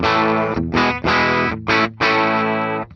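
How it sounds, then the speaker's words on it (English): Regular guitar run through an ESP Hatsune Miku pedal, turned into a buzzy, synthetic voice-like tone: four or five loud, sustained phrases with short gaps and shifting pitch, close and alone. "It's a regular guitar. That's the Miku pedal having some fun."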